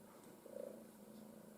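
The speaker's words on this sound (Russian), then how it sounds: "Сейчас мурчит." A cat caught after rustling and squeaking around the house purrs close by, a soft steady low rumble running through the whole moment with no talk.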